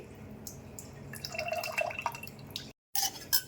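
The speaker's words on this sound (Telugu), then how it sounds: "ఈ వాటర్ని కొంచెం యాడ్ చేసుకోవాలి" Water trickles and drips into a container for a few seconds, fairly quiet and close, with a brief silence near the end.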